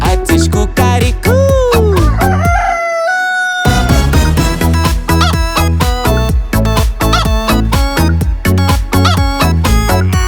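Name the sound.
rooster crowing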